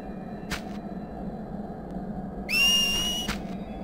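A whistle in the video game Final Fantasy X-2 rings out as a bright, rising two-tone call near the end, preceded by brief sharp whooshes over a low game ambience.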